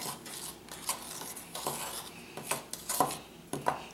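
A spoon stirs an apple volcano mixture, scraping and clinking against the bowl in quick, uneven strokes, close and moderately soft.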